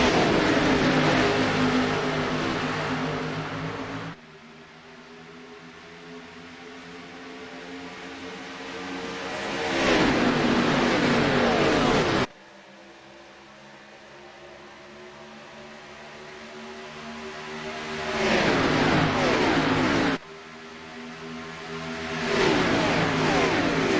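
Race cars in a stock-car series video game, taking the green flag at the start of a playoff race, roar with loud, sustained engine drone. Revs surge upward and the sound cuts abruptly to quieter stretches a few times.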